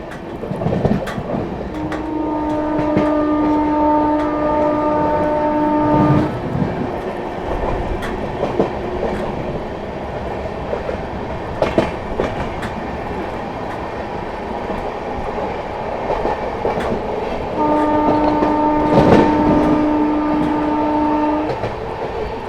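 The Mau–Anand Vihar superfast express runs past Etawah Junction with a loud, steady rumble of wheels and carriages, and a sustained horn blares twice, near the start and again near the end.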